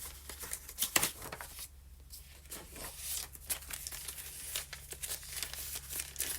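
Coffee-dyed paper pages and recipe cards in a junk journal crinkle, rustle and flip close up, a quiet run of irregular papery crackles with one sharper crumple early on.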